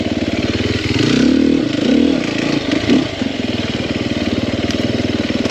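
A 2021 Sherco 300 SEF four-stroke dirt bike engine running close by, with a steady rapid thumping beat that swells twice in short throttle pulls before settling back to an even drone.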